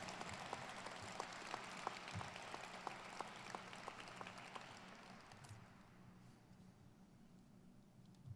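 Audience applause at an Air Force Test Pilot School change of command ceremony: faint, distant steady clapping from a crowd that gradually dies away after a few seconds.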